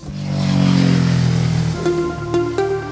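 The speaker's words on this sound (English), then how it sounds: "I do find it difficult sometimes to be so open-minded about the motorcycle noise in Harriman" A motorcycle engine in Harriman State Park drones steadily with a low, rising and falling tone, then several sharper throttle blips come through near the end.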